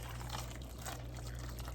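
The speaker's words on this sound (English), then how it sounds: "So let's go ahead and add, I think it's 2 to 3 cups of hot water." Hot water, two to three cups, poured into a bag holding a seafood boil, a faint, steady pouring hiss with a low constant hum behind it.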